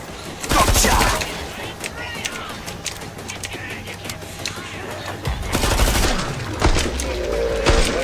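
Gunfire in the zombie shooter Killing Floor 2 during a snowstorm battle: loud bursts of rapid automatic fire around the first second and again after five seconds, with scattered shots and game sounds in between.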